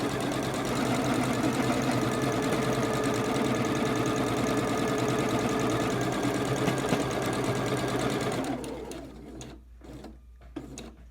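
A sewing machine stitching a zipper pocket with a short stitch length runs in a steady, loud, close whir for about eight seconds, then stops, leaving a few faint clicks and handling noises.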